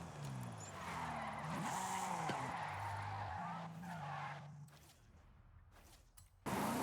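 Nissan 370Z Drift Edition drifting in Forza Horizon 5, with loud continuous tire squeal and a revving engine whose pitch rises and falls, dropping off as the car spins out near the end.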